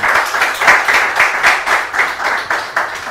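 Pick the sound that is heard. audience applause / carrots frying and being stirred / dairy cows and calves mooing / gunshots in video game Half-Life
audience applause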